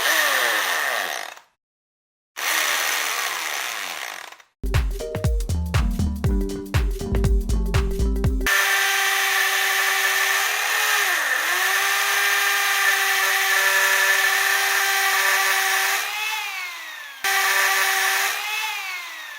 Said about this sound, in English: Next we will use the electric drill with the appropriate wall barrier for the expansions that we are going to use.